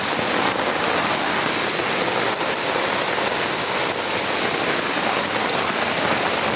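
Heavy rain pours steadily near a flooded temple and village road, a dense, continuous hiss of drops striking water and surfaces with no voices.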